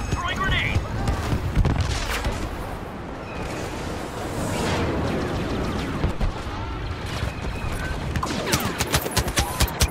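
A grenade blast and gunfire ring out in a video game's Walker Assault battle, with rumbling booms and a run of sharp shots near the end, mixed with voices and battle noise.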